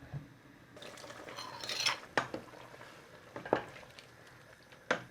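Dissolved roasted rice added to a cooking pot for Lao-style pork rib curry, heard as quiet spoon scrapes and clinks against the pot, a few sharper knocks spaced through a soft stirring hiss, close and alone.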